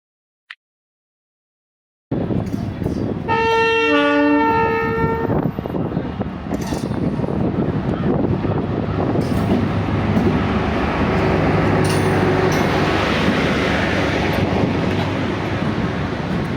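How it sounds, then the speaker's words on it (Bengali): The Gangasagar Express arrives at a station, beginning with a loud multi-tone horn blast and followed by a sustained rumble and clatter of wheels on rails that stays loud and near throughout. "এই যে ট্রেন আসছে।"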